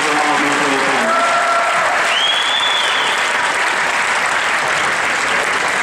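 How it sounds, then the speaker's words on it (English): Sustained applause from an awards-ceremony audience at the 2015 Timby Awards, dense steady clapping throughout with a faint whistle rising above the crowd. "Let's give one more round of applause for all these great teams."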